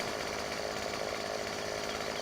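Chainsaw from the Farming Simulator 17 video game cutting trees, a steady loud buzzing drone that runs unbroken through the whole stretch with no voices over it.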